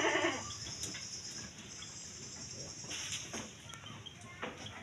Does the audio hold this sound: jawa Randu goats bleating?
yes